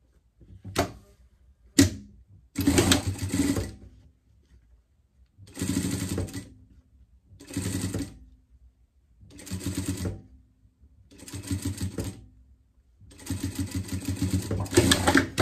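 A sewing machine stitches the brim onto a pet cap in repeated bursts of fast mechanical whirring, separated by short pauses and a few sharp clicks, close and loud with no talk.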